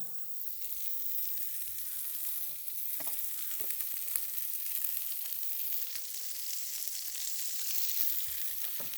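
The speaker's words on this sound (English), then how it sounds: "Love that little sizzle." Food sizzles and crackles steadily in oil in a hot pan, a constant bright hiss with occasional pops throughout.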